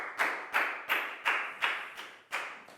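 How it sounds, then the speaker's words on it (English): A primary school class in an English lesson claps for a classmate, heard as seven or so evenly spaced sharp claps in a steady rhythm, close and fairly quiet with no talk over them. "High five and a big round of applause for Nadia."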